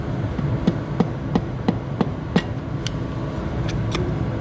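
Sharp metallic hammer blows drive a piston into a 1970 Minneapolis Moline U302 Super Propane engine, about seven evenly spaced whacks followed by a few lighter taps, close and loud over steady shop background noise.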